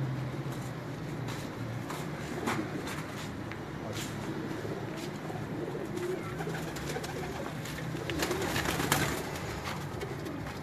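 Pigeons cooing steadily in a loft, a soft continuous murmur of low coos with occasional brighter bird calls and faint rustling, no talking.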